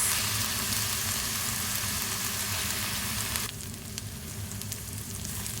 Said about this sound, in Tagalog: Antayin po natin mag-brownish ang ginger paste natin bago natin ilalagay yung ibang ingredients.